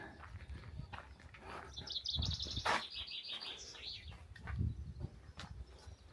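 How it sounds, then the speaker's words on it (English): Birds chirping and singing outdoors beside a lake at Nant Yr Arian on a fine day, several overlapping calls at moderate distance, fairly soft, with no talking. "The birds are singing."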